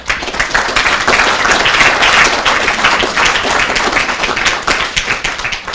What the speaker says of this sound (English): So I ask you to just make an applause and acknowledge their works.